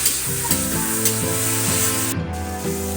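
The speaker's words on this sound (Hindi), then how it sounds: "ये देखो फ्राई हो रहा है।" Food sizzles steadily in a hot home-kitchen pan, a close, continuous frying hiss with occasional stirring scrapes throughout, no talking.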